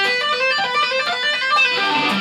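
An electric guitar plays a fast sweep shape with tapped notes high on the neck, a close, bright run of ringing notes with no talking.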